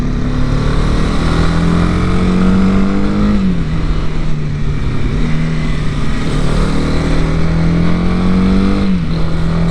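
A Honda CB 300R motorcycle being ridden, its engine droning loud and close with steady revs and a couple of brief rises and dips as the throttle shifts.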